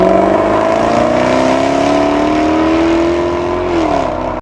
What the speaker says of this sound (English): powered by a 5-liter supercharged V8 engine producing 550 horsepower and 502 pound-feet of torque